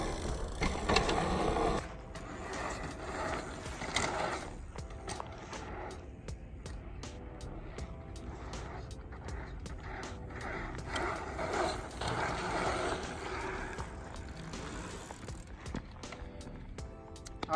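Bicycle riding a pump track, tires rolling and clattering over bumps with mechanical rattles and ratcheting freewheel clicks, steady and fairly near throughout with no talking.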